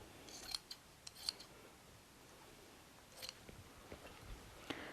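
Quiet, sparse snips of scissors trimming a two-layer fabric patch for mending a quilt, several short crisp cuts spaced apart with a pause in the middle, nearby and alone.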